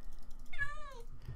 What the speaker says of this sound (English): That cat will not stop meowing.